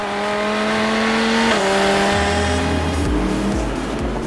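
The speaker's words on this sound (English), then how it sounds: "And it's Corvette versus Ferrari, and Van der Hoek gets by Lonchen on" Close, loud engine roar of Corvette, Ferrari and Viper supercars racing at Spa Francorchamps, pitch sweeping and dropping as cars pass and shift gears, with deep rumbling as they pull away.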